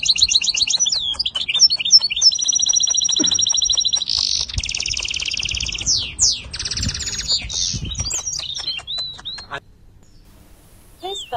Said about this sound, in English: This bird is called a robin redbreast.